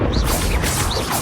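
A Bombarda spell blast in Hogwarts Legacy, a loud, dense explosive roar with whooshing, crashing debris that fills the whole moment.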